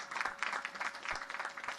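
Dense crowd applause at a US Naval Academy graduation ceremony, honoring the athletic director, heard as a steady roar of many hands clapping at a distance, without talk over it.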